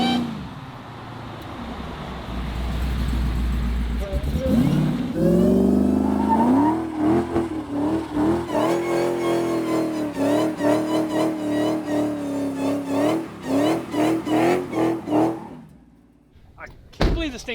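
A truck engine rumbles low, then revs repeatedly while driving, rising and falling in pulsing bursts loud and close, with people talking over it before the engine settles.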